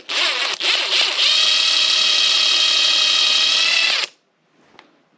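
A power drill spins a tool against 25-45 Sharps brass cases to bevel the case mouths, whirring loudly and steadily for about four seconds after a couple of short starts, then stopping, followed by a faint click.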